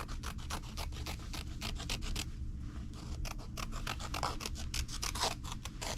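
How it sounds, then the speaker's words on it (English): Scissors snip steadily through fabric up close, a quick run of rasping cuts with a short pause midway before the cutting resumes. "Just gonna put the scissors in the middle and go for it."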